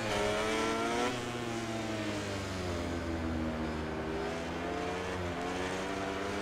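Honda and Suzuki racing motorcycles dueling in MotoGP 19 at Silverstone, a steady loud engine drone with rising and falling revs and harmonic whine, continuous throughout without talk.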